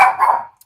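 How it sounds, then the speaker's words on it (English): A pet dog lets out one loud, close bark that trails off within half a second, followed by silence and a faint click. "I'm not going to stop recording just because he's barking."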